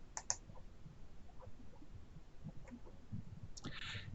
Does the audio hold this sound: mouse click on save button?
yes